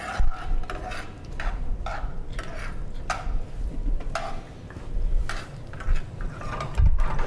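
Garlic sizzles in a hot pan alongside a seafood stuffing mix, a soft continuous frying hiss broken by repeated scraping and stirring strokes of a utensil.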